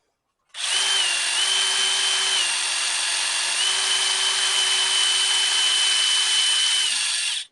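A power drill whines steadily for about seven seconds, drilling out a broken bolt in a cylinder head, starting and stopping abruptly, its pitch shifting slightly as it bites into metal.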